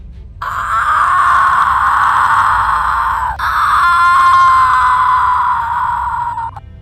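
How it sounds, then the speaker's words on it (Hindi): A cartoon witch screams from a tree, a long, loud, sustained wailing shriek that briefly breaks and then continues, alone with no talk. "उसके छिड़कते ही पेड़ से चुड़ैल की चिल्लाने की आवाजें आने लगती है।"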